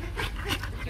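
A dog pants steadily and fairly close, quick rhythmic breaths running through the whole second against a busy background, with possible faint voices at a dog market.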